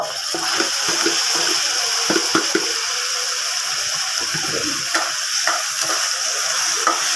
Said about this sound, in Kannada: ಈರುಳ್ಳಿ ಫ್ರೈ ಆಗ್ತಾಯಿದೆ ಫ್ರೆಂಡ್ಸ್ ಇದಕ್ಕೆ ಟೊಮೊಟೊ ಹಾಕೊತಾ ಇದ್ದೀನಿ